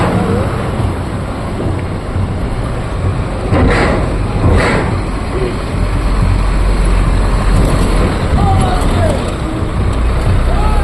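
Ship engine idling at Dangay Roxas Port, a steady low rumble running throughout at fairly close range, with harbor bustle and indistinct voices mixed over it.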